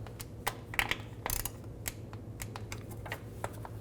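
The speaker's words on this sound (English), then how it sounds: "Now we're going to torque these bolts to 89 inch-pounds." A torque wrench tightens bolts on the transfer case shift motor of a 2003-05 GMC Yukon, making a close series of light, irregular metallic ratcheting clicks over a low background hum.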